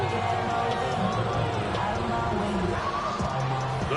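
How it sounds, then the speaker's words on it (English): A stadium crowd in an American football video game roars steadily and loudly before a third-and-long play, a dense continuous wall of cheering with a voice talking over it. "The crowd cranking it up another notch before third and long"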